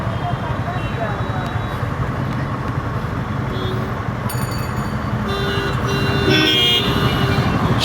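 Heavy road traffic heard from a motorcycle ride, with a constant loud roadway rumble and a few short horn toots and beeps near the end.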